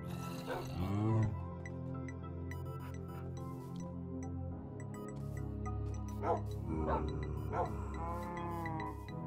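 Dogs in Minecraft bark and yip repeatedly in short bursts at moderate distance, with whimper-like tones mixed into the sounds.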